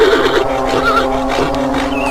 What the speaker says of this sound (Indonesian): Kuda putih itu meringkik